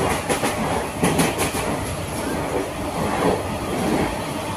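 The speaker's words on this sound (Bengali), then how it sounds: "ট্রেন মারাত্মক গতিতে চলছে" A passenger train speeds along near Hooghly toward Howrah with a steady, loud rumble from inside or close by, rails clicking rhythmically in the first seconds and a continuous roar after that.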